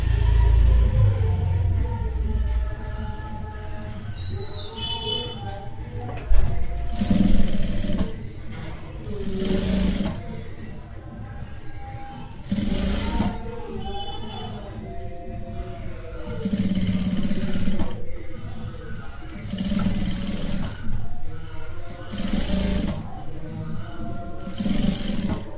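A sewing machine stitches a half-inch folded hem on a princess-cut kurti in short, repeated bursts of whirring, while someone talks over it throughout.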